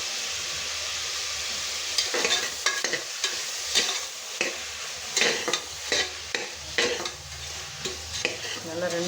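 Chicken pieces for chicken kurma sautéing in a hot pan with salt, a steady sizzle broken by repeated scraping stirs of a spoon against the pan, close and fairly loud, with no talking.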